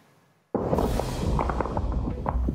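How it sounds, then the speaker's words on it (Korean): Dense, loud burst of cracking shots erupts after a short quiet, with repeated sharp reports layered over rumbling low noise, like heavy gunfire echoing through a city in Sudan near Khartoum. "무거운 총성이 도시를 울립니다."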